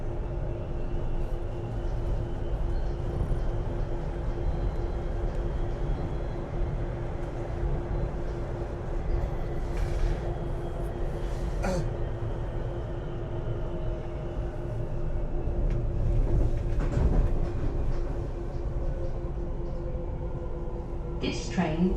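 A Docklands Light Railway B23 stock train runs steadily through tunnels under the Thames with a continuous low rumble and motor hum, and occasional clicks and rattles over about twenty seconds.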